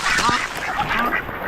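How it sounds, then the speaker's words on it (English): Ducks quack on a Hawaii farm during a hurricane, a quick cluster of nasal, close calls overlapping with a few other fowl sounds. "Gonna let this duck in."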